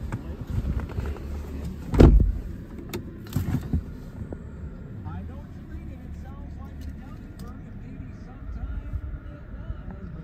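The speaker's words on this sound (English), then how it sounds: "power adjustable seat." An electric motor powers the adjustable seat of a 2023 VW Atlas, giving a steady low whir mixed with cabin noise and a sharp knock early on, with talk present alongside it.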